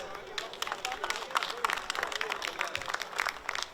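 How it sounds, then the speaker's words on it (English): A crowd applauds at a Rotax kart race weekend in Wackersdorf, a steady patter of distant clapping heard under a public-address announcer speaking. "Let's have a big round of applause, please."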